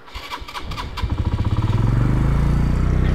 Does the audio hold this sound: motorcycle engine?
yes